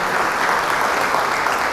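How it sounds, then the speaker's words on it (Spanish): A church congregation claps and applauds during a worship service, producing dense, continuous and loud applause that fills the whole clip without a break. "Dele palmas a Jesús."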